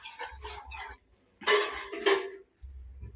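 Metal cooking pot holding a curry of small fish, shaken and tossed by its rim instead of stirred, giving a few rattling, clanking bursts with short quiet gaps between them.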